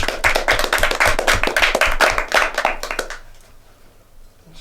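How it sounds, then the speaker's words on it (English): Studio round of applause for Elliot, a few people clapping rhythmically and close for about three seconds before it fades into quiet room tone. "let's have a round of applause for Elliot."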